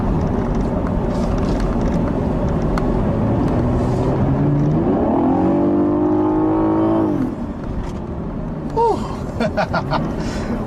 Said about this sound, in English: the tuning of the Turbo 4 just to make it sound better, make it a little bit more engaging